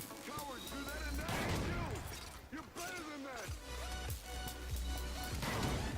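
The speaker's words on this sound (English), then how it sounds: "I'm going to shoot the railgun and then shoot it again as fast as I can" A railgun in the video game Halo 5 fires in heavy, booming blasts with rising whines between them. The shots are loud and close and come in repeated bursts over a dense game soundtrack.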